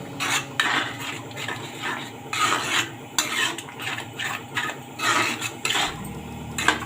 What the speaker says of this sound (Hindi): दही डाल के आपको अच्छे से चलाना है इसे, क्योंकि दही फट सकता है,